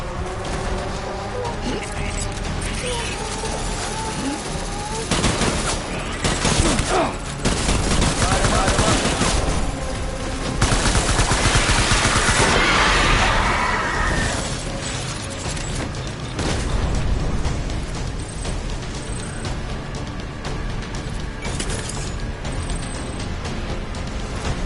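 Gunfire in the video game Death Stranding rattles continuously for about twenty-five seconds, dense bursts of automatic shots and booms stacked loud and close, with voices shouting over the battle.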